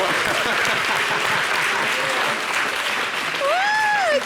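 A studio audience applauds a model on a French local television show, a steady, thick roar of clapping throughout, with a few cheering voices and whistles rising over it near the end.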